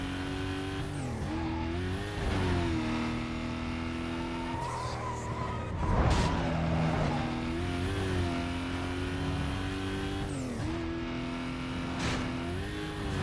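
A car driving in Need for Speed: Most Wanted 2005 on PS2, its engine droning steadily with rising and falling revs through gear changes and occasional tire squeals, loud and continuous with no talk.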